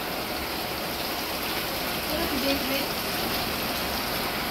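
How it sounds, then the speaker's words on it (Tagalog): A steady broadband hiss of heavy rain pours continuously during flooding in Manila, with a faint voice briefly under it. "Grabe, yung lakas na naman ng ulan."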